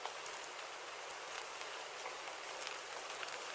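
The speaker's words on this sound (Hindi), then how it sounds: "बारिश और तेज होने लगती है।" Steady cartoon rain in a Hindi animated moral story, a dense even hiss of falling drops that grows heavier, heard alone without voices.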